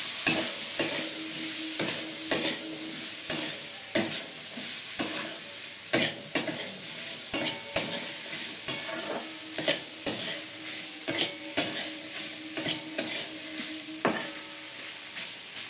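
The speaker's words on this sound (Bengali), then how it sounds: "আলু আর মটর দিয়ে আমরা ভালো করে নাড়বো।" Boiled potatoes and peas fry in a pan for ghugni, with a spoon scraping through them in repeated rhythmic strokes over a constant soft sizzle. The sound is close and there is no talk.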